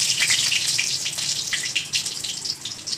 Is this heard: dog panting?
no